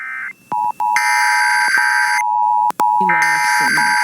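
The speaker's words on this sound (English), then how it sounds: "Test message EAPAWS Open Cap EAS Feed Configuration Test Message." Loud Emergency Alert System IPAWS weekly test tones: short beeping bursts give way to a long steady pure tone, broken by brief gaps, with a harsher two-tone attention signal and chirpy data bursts joining near the end.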